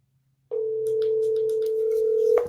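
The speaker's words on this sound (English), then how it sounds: "We're ringing back." A telephone line tone sounds during a call back, a steady unbroken electronic tone starting abruptly and holding for about two seconds before cutting off, with faint talk in the background.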